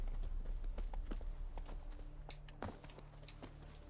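Horse hooves in The Witcher 3 clopping at a steady gait over ambient game sound, with rhythmic hoof impacts fairly close and moderately loud throughout.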